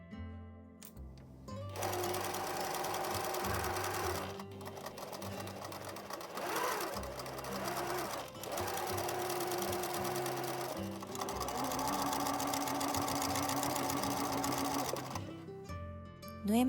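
A sewing machine runs in long, steady stitching bursts along the waist seam of a dress, joining layers of top, skirt, skirt lining and waistband fabric with a 1 cm seam allowance, with brief pauses between runs.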